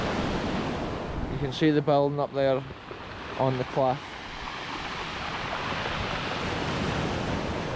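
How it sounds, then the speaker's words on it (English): Broadband surf from North Sea waves breaking on an eroding Scottish cliff coast near an old lime kiln, a steady wash throughout with someone talking briefly over it early on. "the waves of the North Sea crashing here are just incredible"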